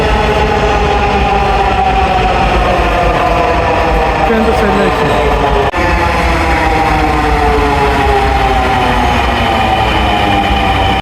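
A Dhaka metro rail train runs with a loud, continuous rumble and a steady whine from the carriage. Some tones shift in pitch as it moves, heard from inside the car.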